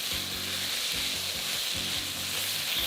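Shrimp, carrots and broccoli sizzle and fry steadily in a pan for a sapo tofu seafood dish, with a constant close hiss and soft clatter of stirring throughout and no talking.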